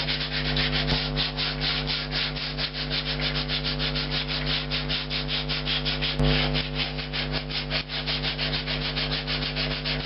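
Sandpaper rubbed back and forth on a resonator cone, a loud, close, rhythmic scraping of quick, even strokes that continues steadily for about ten seconds with no speech.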